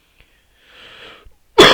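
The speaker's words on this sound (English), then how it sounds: "Sorry, clear my throat." A person clears their throat once: a soft, raspy rumble, then a short pause, then one loud, harsh, explosive hack at the end.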